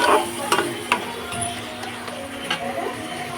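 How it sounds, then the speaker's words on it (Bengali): Spoon or spatula scraping and clinking in a pan of chicken frying in a little oil, with a faint steady sizzle underneath, a few sharp knocks standing out. "এবার ভালো করে নেড়ে নিলাম নেড়ে নিচ্ছি ভালো করে একটু ভাজা ভাজা করবো"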